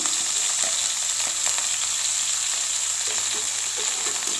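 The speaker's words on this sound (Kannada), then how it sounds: "ಬೆಳ್ಳುಳ್ಳಿನ ಸ್ವಲ್ಪ ಫ್ರೈ ಮಾಡ್ಕೊಳ್ಳಿ." Garlic frying in a pan for Andhra-style neeru saaru, the crushed cloves with curry leaves giving a steady, close sizzle that runs unbroken throughout with faint stirring clicks and no talk.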